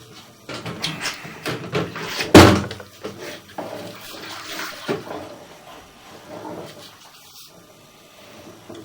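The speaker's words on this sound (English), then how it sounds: "The building's active, water's being used" Water rushing through a building's drain pipe, heard from inside the line past the 54-foot mark where paper clumps, with an uneven hollow wash broken by scattered thumps and one sharp knock.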